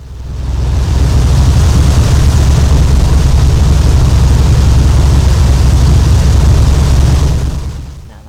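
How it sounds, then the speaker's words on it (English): An aircraft taxiing on the runway in a flight sim, a loud, steady broadband engine roar that swells in at the start, holds constant, then fades at the end. "Now that part I'm just taxiing on the runway"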